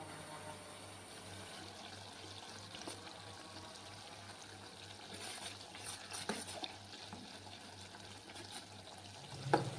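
Coconut oil with herbs frying in a pan over a medium flame, a faint, steady low sizzle and bubbling with occasional soft stirring sounds.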